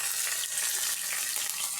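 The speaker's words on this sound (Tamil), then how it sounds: "இஞ்சி பூண்டு பேஸ்ட்டு அந்த எண்ணெயில் போட்டுருங்க" Ginger garlic paste frying in hot oil for a green pea and cauliflower dish, giving a steady, even sizzle that holds for the whole short stretch with no talk.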